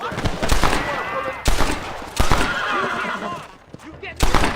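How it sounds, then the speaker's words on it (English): Gunfire rings out in the Red Dead Redemption video game as sharp repeated shot bursts in clusters, mixed with in-game voices and a horse's whinny. "बहुत बढ़िया बना है ये फायरिंग"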